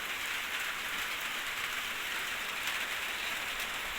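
Steady rain falling during a storm in Laos, an even, dense hiss of drops on surfaces that holds constant throughout, fairly close and with no voices.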